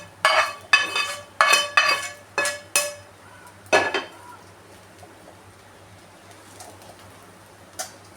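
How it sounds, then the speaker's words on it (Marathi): Fried rice with paneer and spring onions gets stir-fried in a pan, a quick run of sharp metallic scraping strokes in a rhythmic burst, then a pause with a couple of faint later scrapes. "आता हे आपल्याला परतून घ्यायचंय चांगलं"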